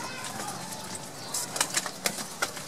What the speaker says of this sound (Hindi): ये मिक्स ही हैं सारे कबूतर